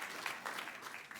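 Audience applause at a robotics software conference, a short burst of steady clapping from a crowd of listeners.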